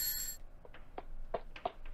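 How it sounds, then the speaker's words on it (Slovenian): A doorbell in a radio play gives a short series of light ringing tones, spaced irregularly and fairly close, with a bright burst at the start and quiet between rings. "nekdo je pozvonil"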